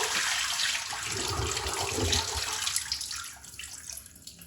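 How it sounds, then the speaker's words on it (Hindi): Water is poured off soaked rice, a steady close rushing pour that thins out toward the end. "अब ये मैं पानी निकाल दूंगी।"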